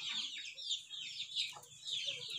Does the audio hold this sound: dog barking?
no